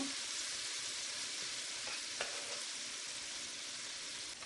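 Shrimp fry in a pan as mint pesto is mixed in, giving a steady, even sizzle that runs through the whole stretch without talk.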